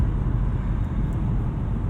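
Steady, even cabin rumble from a 2017 Audi S8 Plus cruising in drive mode on Michelin Pilot Sport 4S tyres, a continuous low road and engine drone with no talk.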